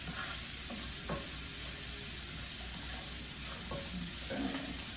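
Rice simmering on a stovetop, a constant low hiss and bubbling with a few faint clinks and knocks of a utensil scattered throughout, fairly quiet and steady, with no talking.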